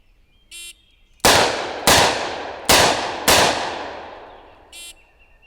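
Four loud, sharp gunshots from a Smith & Wesson Model 19 revolver at a shooting range, spaced roughly half a second to a second apart, each with a ringing decay, framed by two short electronic beeps before and after.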